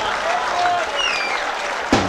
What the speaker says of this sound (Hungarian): Jár érte a taps, nem is akármilyen.